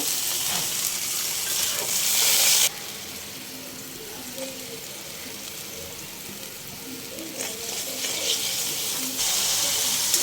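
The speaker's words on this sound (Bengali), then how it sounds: "এখন আমি পানি দিব" Spice paste of ginger, garlic and cumin sizzles loudly in a pan, then drops to a softer bubbling once water is poured in, before the frying hiss swells again near the end.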